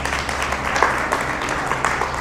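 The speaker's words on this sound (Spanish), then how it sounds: "Dale un aplauso al Señor Jesús" A church congregation claps together in a steady, dense wash of applause at moderate volume, filling the room without talk for a couple of seconds.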